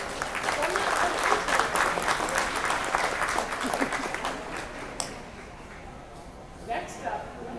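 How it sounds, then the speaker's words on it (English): A crowd at a national alpaca show gives a round of applause, a steady wash of clapping that slowly tapers off while a voice carries on over it. "Let's give a big round of applause for"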